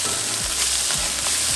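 Garlic sizzles steadily in a hot pan for vegan pea dal curry, a continuous close frying hiss with faint stirring scrapes.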